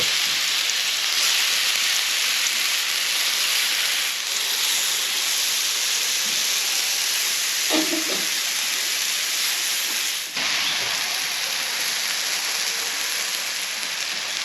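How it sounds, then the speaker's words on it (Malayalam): Steady sizzling hiss of brinjal chips frying in a little coconut oil, continuous and fairly loud throughout, with a couple of faint clinks. "കുറഞ്ഞ വെളിച്ചെണ്ണയിൽ നമ്മളിങ്ങനെ അത് പൊരിച്ചെടുക്കാൻ"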